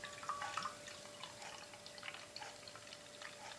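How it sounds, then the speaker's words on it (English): Innis and Gunn Irish Cask Aged Stout poured quickly from a bottle into a glass, soft gurgling and splashing liquid with faint drips, close and quiet over a steady electrical hum. "So, let's give this a pour."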